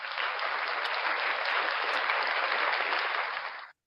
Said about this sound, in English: Round of applause for Doc Danger.